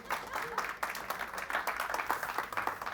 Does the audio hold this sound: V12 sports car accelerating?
no